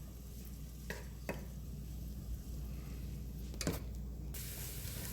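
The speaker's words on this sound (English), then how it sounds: "And I'm going to just stir all this here all together." Chicken pot pie filling with a tablespoon of butter is stirred in a pan, giving a steady low sizzle with a few brief scraping strokes of the spoon against the pan, close and fairly quiet, with no talking.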